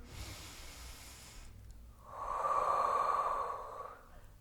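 Someone exhales in a long, steady breath during a Pilates thigh workout, following quieter breathing and some low rustling at close range.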